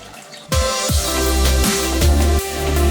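Hot water at 80 degrees pours into a home beer brewing system for a Southern Star single-hop brew, a loud, close, gurgling fill with repeated rhythmic glugs about every half second.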